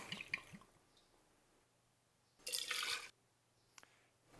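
Blended scotch whisky poured into a chilled cocktail glass, a brief splashing gurgle of liquid lasting under a second amid faint drips and quiet glass handling.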